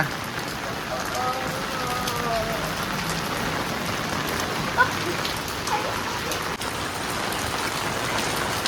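Steady rain falls and patters on surfaces, a continuous hiss with a few louder drops mixed in.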